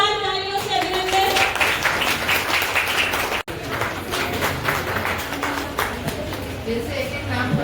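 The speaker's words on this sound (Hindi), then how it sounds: "जोरदार तालियों से अभिनंदन।" An audience at a Guru Purnima function claps vigorously to honour a guest. The dense, continuous applause goes on throughout, with voices sounding over it and a brief dropout midway.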